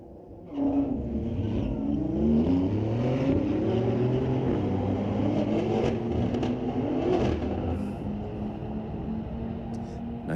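A 2015 Nissan GT-R R35 and a Porsche drag race at Mission Raceway Park during a street-legal drag night, engines roaring and rising in pitch through hard acceleration, loud and sustained for about ten seconds.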